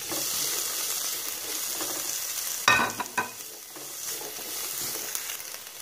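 Sweet peppers sizzling in a frying pan with chicken broth, a steady close hiss with a few brief clatters of stirring midway.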